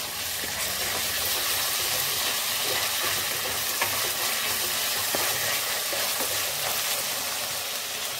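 Ginger garlic paste fries in a pan with a steady, hissing sizzle throughout, faint clicks of stirring now and then, close and with no voices.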